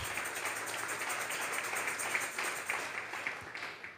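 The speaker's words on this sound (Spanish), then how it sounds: "Vamos a regalarle ofrendas de palmas al Dios de la gloria." A church congregation clapping their hands together, a dense, steady patter of many hands that rolls on at an even loudness and then thins out and fades toward the end.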